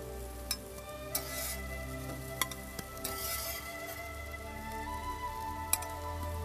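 Eggplant on a grill gives a faint, steady sizzle, broken by occasional sharp ticks and clicks of tongs or utensils against the grate. No voices.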